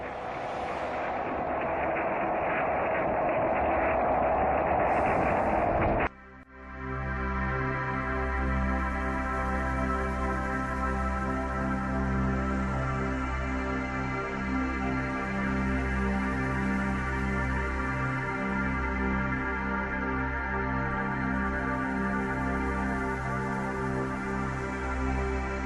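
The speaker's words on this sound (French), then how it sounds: "Voici le son du soleil, recordé par le satellite SOHO." Sound of the Sun recorded by the SOHO satellite: a steady, deep, rumbling drone with layered humming tones that holds for about twenty seconds after a short burst of hiss.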